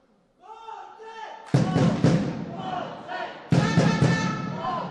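Handball supporters cheering and chanting in the stands of an indoor arena during a Serie A match, a loud crowd roar with two sharp surges of noise and sustained yelling.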